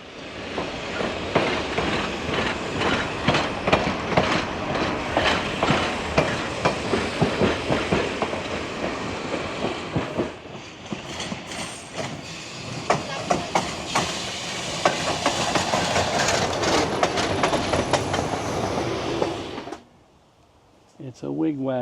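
A train rumbles along the rails with rhythmic clacking and hiss, loud and close, while voices talk over it; the noise drops away abruptly near the end.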